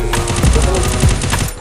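Rapid bursts of gunfire in a Free Fire mobile game crackle loudly and densely, a fast rattling volley like automatic weapons, continuous for over a second.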